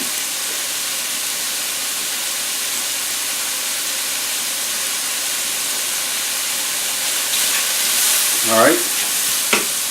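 Mushrooms sizzle in oil in a frying pan for chicken marsala, a steady close hiss running the whole time, with stirring and a brief spoken word near the end.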